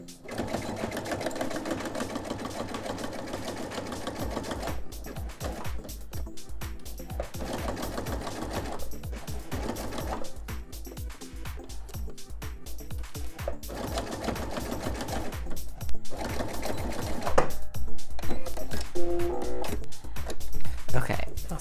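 Sewing machine stitching and backstitching fabric for an oven mitt, a steady close motor whir running through with brief pauses and short reversing bursts, with a voice talking over parts of it.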